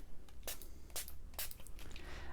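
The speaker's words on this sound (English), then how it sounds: "Okay, let's spray." A spray bottle puffs water in three quick, hissing bursts close by, with short pauses between them and no talk.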